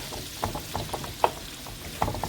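Cabbage and onion frying in a pan for Southern fried cabbage, with soft sizzling under scattered scraping and clattering stir strokes, quiet and close, no talking.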